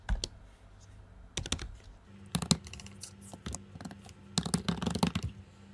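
Someone types a web address on a computer keyboard in quick irregular bursts of crisp clicks, close up, with short gaps between the runs of keystrokes.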